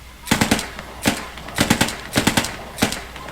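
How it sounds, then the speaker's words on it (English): Full-auto rifle fire in the WWII shooter Post Scriptum: five short bursts of rapid, sharp shots, each a tight cluster of cracks with brief ringing tails, separated by pauses, loud and close with no talking. "they have the extra sound full auto, because most people hold the trigger anyway when they're in full auto"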